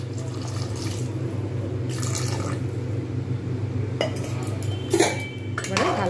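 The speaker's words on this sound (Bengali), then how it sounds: "আরও একটু জল দিয়ে দেবো।" Water is poured into a pot of Bengali mutton curry with papaya and potato, a soft liquid splash mixed with the clink and scrape of metal cookware and utensils, close and moderate in level, with no talking.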